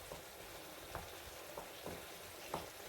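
Salad méchouia vegetables cook gently in a pan over low heat, giving a faint, soft sizzle with a few light pops and clicks, heard up close with no voices.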